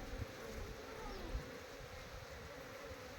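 Honeybees buzz in a continuous close drone while a beehive box is opened and cleaned, with a few faint knocks beneath the hum.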